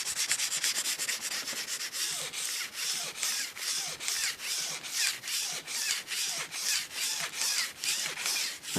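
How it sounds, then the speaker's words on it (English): Wet sanding a curb-damaged car wheel by hand to a smooth finish, a rhythmic back-and-forth rubbing with regular strokes, close up and steady, with no voices. "here we are wet sanding it to a nice smooth finish."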